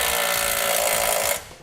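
Power tool driving an 11/16 socket to tighten a standard nut on a Curt trailer hitch receiver for a 2017 Honda Odyssey, a loud close whirring burst that cuts off after a second and a half.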